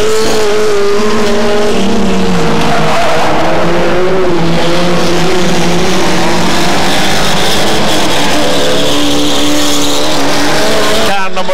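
Hot rod race cars circle at The Pike in 1996, engines roaring loud and continuous with tire squeal, while a commentator talks over the racing throughout.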